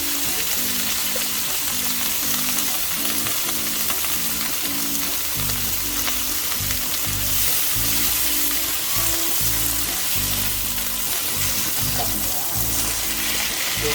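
Spinach sautés in a pan with butter and garlic, giving a loud, continuous sizzle with crackling and the scrape of stirring throughout, and no voices.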